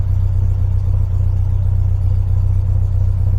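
A VW Beetle engine idles steadily and close, a loud, even low throb with a faint mechanical clatter and no change in speed.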